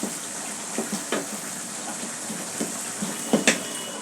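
Papaya frying in a pan on medium heat gives a steady hiss, with a few soft scrapes and knocks as it gets a brief stir.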